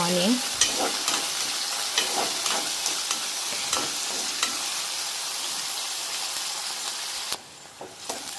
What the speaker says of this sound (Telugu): కొంచెం జీలకర్ర, ఆనియన్ కొంచెం ఫ్రై చేసుకోవాలి